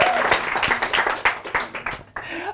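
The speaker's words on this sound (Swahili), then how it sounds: "Tupige makofi." Brief clapping from a television studio audience, a quick burst of hand claps with some background voices, fading near the end.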